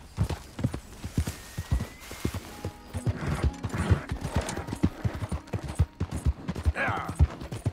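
Horse hooves galloping in Red Dead Redemption 2, a brisk irregular clatter of hoofbeats running throughout at moderate loudness, with faint background game sounds and a brief voice near the end.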